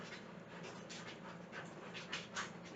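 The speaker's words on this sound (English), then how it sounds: "Hear my dog being restless." A restless dog pants close by in quick, steady, rhythmic breaths that carry on without a break, with no talk over it.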